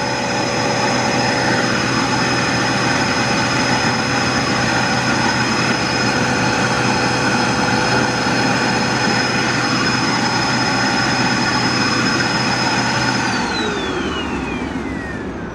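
A Dirt Devil vacuum cleaner with no suction runs during a rice suction test, giving a loud, steady motor roar and whine that holds throughout, then drops in pitch as the motor winds down near the end.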